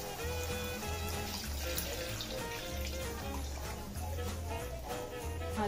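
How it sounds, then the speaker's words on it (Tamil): Tamarind extract being poured into a pan of traditional Tamil fish curry with sautéed tomatoes, a steady close liquid pour and trickle running throughout, with a low hum beneath. "நம்ம வச்சிருக்கிற புளி கரைசல வந்து நம்ம வந்து இதில் ஊற்றிக்கணும்"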